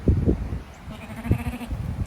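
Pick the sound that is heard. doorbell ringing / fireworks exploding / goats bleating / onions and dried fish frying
goats bleating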